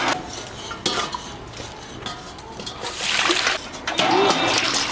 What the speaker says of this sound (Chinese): 冲一下水就可以了